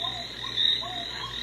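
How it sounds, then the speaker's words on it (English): A little ocean wave projector light plays a nighttime forest ambience, steady high chirping crickets with faint croaking frog-like calls, soft and continuous with no talk. "This is like a little nighttime"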